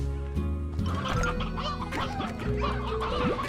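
A chicken clucks in the video game Slime Rancher, a run of short throaty clucks over a steady, dense bed of game music and ambient sound.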